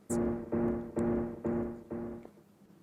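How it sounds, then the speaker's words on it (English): Five evenly spaced tonal pulses with a buzzy, harmonic timbre, each swelling and fading about every half second, steady and close with no voices. "the electrical signals from those electrodes would sound like this"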